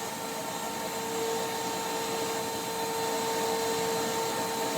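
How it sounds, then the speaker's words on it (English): A workshop dust collection system runs beside a Zipper HB204 planer/thicknesser, giving a loud, steady whooshing drone with a faint constant whine and no talking. "Sorry, dust collection's on."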